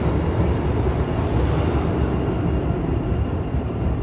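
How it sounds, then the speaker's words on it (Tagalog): An LRT streetcar train rumbles steadily and loudly close by in a Canadian city, a continuous broadband roar of wheels and motor with no breaks. "Ito na yung sakyan natin na LRT. LRT yan. Streetcar."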